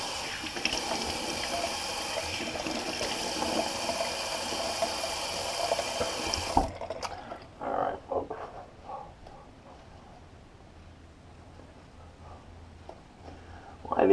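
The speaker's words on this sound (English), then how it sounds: "Just gonna wash the alum off now." Running water from a tap rinses shaving alum off after a shave, a steady broadband wash for the first half that stops abruptly, leaving a quieter room with small handling noises and splashes.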